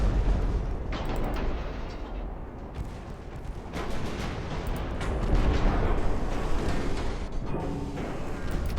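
Heavy booming explosions and gunfire rumble continuously as a torpedo hits a ship in the naval video game Ultimate Admiral Dreadnoughts, with dense, loud blasts layered over a constant low roar.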